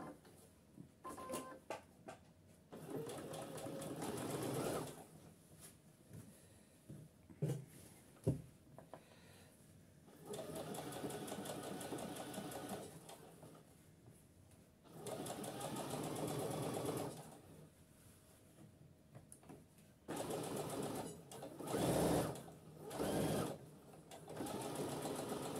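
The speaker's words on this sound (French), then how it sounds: "Et je vais faire une petite surpiqûre." A sewing machine topstitches fabric in several long runs of steady, fast stitching, separated by short pauses and light handling noises, close and fairly quiet.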